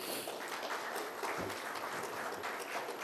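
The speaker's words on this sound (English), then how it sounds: "give each one of you a standing ovation and a huge round of applause" Audience applause at the close of a conference, a steady dense wash of many hands clapping together with no pauses throughout.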